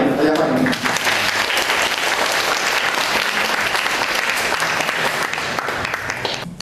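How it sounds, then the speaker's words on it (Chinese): An audience at a Buddhist lecture claps to welcome a speaker, giving dense, sustained applause that stays loud throughout and tapers slightly near the end. "热烈的掌声欢迎祖拉吉堪布为我们做演讲"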